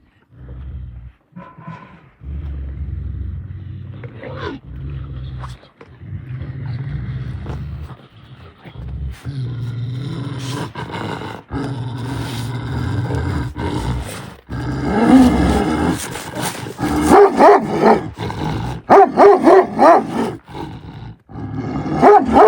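Dogs growl and snarl in low, rumbling bursts that build into louder, rough roars toward the end, with brief quiet gaps between.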